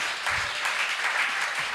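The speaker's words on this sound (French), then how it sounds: "On va applaudir mon Dieu, on va applaudir mon Dieu." Applause at a church service, a steady broadband patter of many hands clapping together, moderately loud and continuous throughout with no speech over it.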